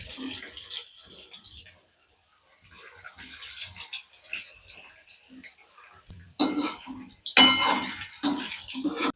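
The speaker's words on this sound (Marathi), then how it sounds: "आता याच्यात आपण सोयाबीन घालून तळून घेऊ." Soybean chunks drop into hot oil for a crispy soya chilli starter, bursting into a loud, broad sizzle partway through that keeps crackling after earlier quieter kitchen clatter and talk.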